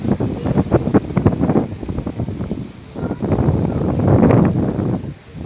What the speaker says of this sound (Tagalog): Narinig nyo ba yung ugong ng hangin?